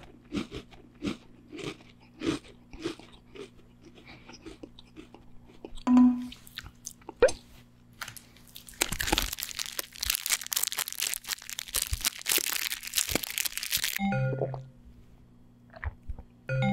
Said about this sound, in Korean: 홍차의 친구 쿠키도 하나 먹어보겠습니다